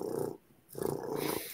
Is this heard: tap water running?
no